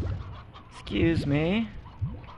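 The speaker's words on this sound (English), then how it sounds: "Oh my god, they are eating the chickens." Chickens clucking in the Slime Rancher video game, a few short rising and falling cackles in a burst near the middle, fairly close and clear, with a person speaking briefly around them.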